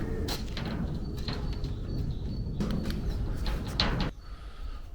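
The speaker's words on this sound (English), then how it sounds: "lots of noises of pigeons and" Pigeons coo inside an abandoned chalk quarry works building, soft and a little distant over a rumbling, echoing room tone, with occasional sharper clatters before the background suddenly drops quieter near the end.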